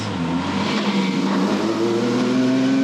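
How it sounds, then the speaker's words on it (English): An 800hp Nissan GT-R with a six-speed sequential gearbox revving on a dyno, a loud, close, steady engine drone with rising pitch as the revs climb. "So Con has the car on the dyno, it's warmed up, ready to go."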